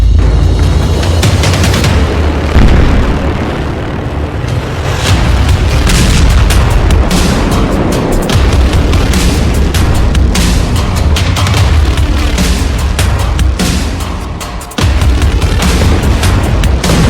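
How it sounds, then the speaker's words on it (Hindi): Continuous, loud, deep booming and rumbling from 2,000 kg bomb explosions in Rafah, with dense overlapping blasts and crackle that barely let up. "अब रफा में 2-2 हजार किलो के बम गिराए जा रहे हैं।"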